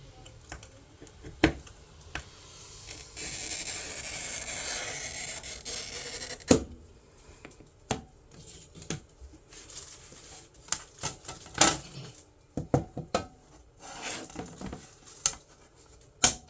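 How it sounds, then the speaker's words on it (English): A glass mirror being scored and cut by hand, with a sustained scraping hiss followed by scattered sharp ticks and snaps, close and fairly quiet, with no talk. "we are just going to cut this mirror real quick"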